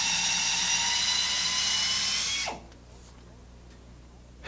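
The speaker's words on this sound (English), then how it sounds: "Any low RPM drill with a maximum of 1200 RPMs can be used in this process." A low-RPM drill, 1200 RPM maximum, reams a tire puncture from the inside during repair, giving a steady, loud high-pitched whine that cuts off abruptly midway, leaving quiet shop ambience.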